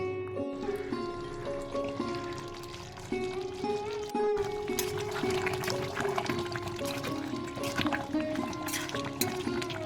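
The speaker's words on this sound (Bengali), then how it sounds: "দেখুন মাংসের থেকে অনেকটাই জল বেরিয়েছে এই জলে কিন্তু মাংসটা ভালোভাবে কষানো হয়ে যাবে আবার আমি মাংসটাকে ঢাকা চাপা দিয়ে কষিয়ে নিচ্ছি" Duck meat braising under a lid in its own released water in a village-style curry, a soft continuous watery bubbling and simmering with background music and occasional faint talk.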